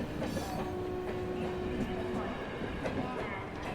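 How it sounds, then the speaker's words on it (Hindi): A weekly train bound for Lucknow rumbles by nearby as a steady, dense roar with faint rail clatter and a brief whistle-like tone, while voices murmur underneath. "यही ट्रेन जाती है लखनऊ, हफ्ते में एक बार"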